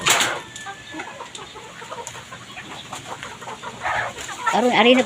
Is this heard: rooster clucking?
yes